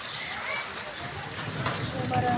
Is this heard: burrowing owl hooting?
no